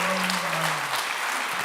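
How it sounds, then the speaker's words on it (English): An audience at an international architecture festival session applauds warmly, a dense wash of clapping heard under a brief spoken voice at the start. "give her a warm applause"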